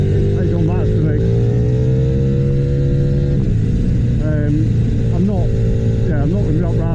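Ducati V4 track motorcycle on Pirelli Supercorsa tyres, engine droning loud and close at steady high revs, dipping briefly then climbing again through gear changes on a racetrack.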